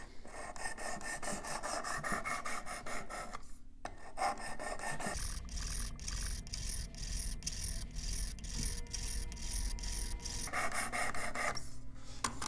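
Knife blade drawn across the abrasive stones of a Worksharp Precision Adjust sharpener: continuous rhythmic rasping strokes, close and fairly loud, with brief pauses as the stroke direction changes.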